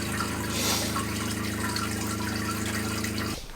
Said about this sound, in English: Man, that's a strong pump.